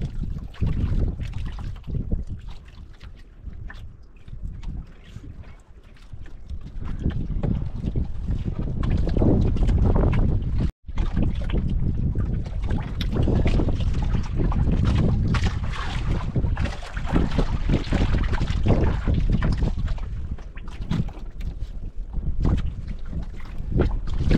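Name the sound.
boat on water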